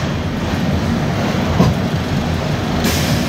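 Sealdah–New Delhi Rajdhani Express running through Ghaziabad station, heard from inside an AC 2-tier coach as a steady, close rumble of wheels and carriage with a brief clank near the middle.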